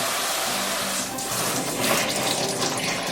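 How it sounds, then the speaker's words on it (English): Cold tap water runs steadily over raw chicken being rinsed in a kitchen sink, a continuous close splashing flow with no voices. "And then rinse with cold water,"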